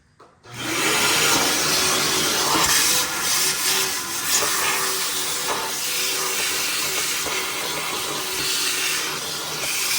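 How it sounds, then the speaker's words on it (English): A vacuum cleaner roars steadily with a broad hissing suction while cleaning dirt from a car's filter housing, its pitch shifting slightly as it works close by for the full stretch. "I'm going to use my vacuum to clean all that out."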